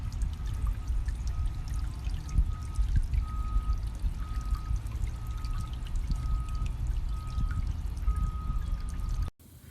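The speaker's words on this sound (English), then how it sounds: "My water's running." Water runs steadily in a garden water feature outdoors, its fountain switched off, giving a continuous pouring and trickling wash with a faint recurring tone, alone without talk.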